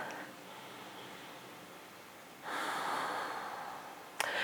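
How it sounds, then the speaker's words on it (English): A deep breath is drawn during yoga stretching: a soft, airy inhale swells and holds for a second or two, then a sharp short sniff at the end, close and quiet. "Let's take another deep breath."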